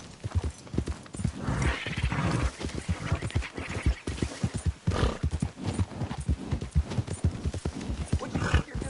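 Rapid rhythmic hoofbeats of a galloping horse in Red Dead Redemption 2 on PS5, loud and close, with a brief whinny and a voice speaking over the gait.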